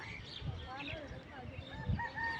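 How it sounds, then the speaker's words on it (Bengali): Chickens kept at a house on a hilltop, heard faintly and at a distance as scattered clucks, with a couple of low bumps and steady background noise. "বাড়িটার চূড়াই এখানে কিন্তু অনেক মুরগি আছে এরা পালে"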